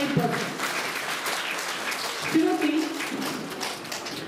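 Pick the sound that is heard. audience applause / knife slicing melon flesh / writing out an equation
audience applause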